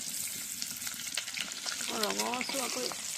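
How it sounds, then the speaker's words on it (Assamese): Boiled, shelled eggs fry in a pan in a village kitchen, giving a continuous close sizzle with stirring sounds, while a voice briefly rises over it near the end. "কণীকেইটা ভাজি লৈছোঁ"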